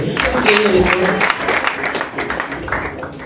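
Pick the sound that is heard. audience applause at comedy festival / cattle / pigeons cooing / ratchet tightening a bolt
audience applause at comedy festival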